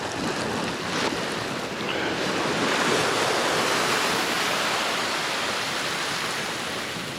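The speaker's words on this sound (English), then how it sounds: "The sea here is relatively quiet. Let's just watch a wave or two." Sea waves wash onto the shore at Blue Anchor in West Somerset during winter flooding, a broad, steady rush of surf that swells gently and stays fairly loud, with no voices.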